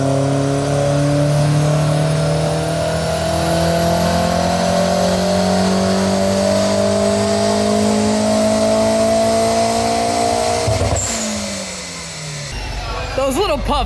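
A Toyota MR2 with a 3SGTE engine pulls hard on a dyno, with a loud, close drone rising steadily in pitch for about eleven seconds before the throttle drops and the engine winds down.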